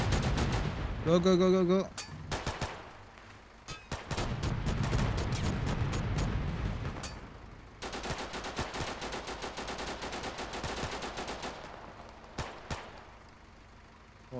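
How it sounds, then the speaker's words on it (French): Gunfire in a Total Conflict video game battle: rapid machine-gun bursts and single shots crackle loudly and repeatedly over a long stretch, with a voice shouting commands over the shooting. "Il nous tire dessus."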